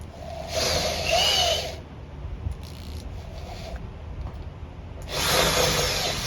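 A power drill bores through roofing or trim sheet in two loud whining bursts with a quieter spell between them. The whine is high and gritty and the drill is close.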